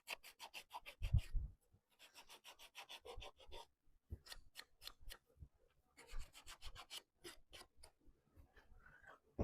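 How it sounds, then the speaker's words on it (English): Sanding by hand on a wooden drawer piece makes a series of quick, close rasping strokes in irregular bursts with brief pauses between them. "So I'm just going to go by hand, do some sanding."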